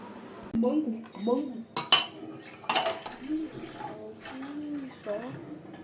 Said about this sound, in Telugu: ఇంకా గిన్నెలు అయితే దొమ్మేది ఉంది.